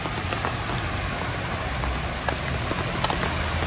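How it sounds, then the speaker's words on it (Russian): Steady heavy rain hisses continuously in Odesa during flooding, with a faint vehicle rumble underneath and occasional louder drops. "то у нас вот такие сильные дожди"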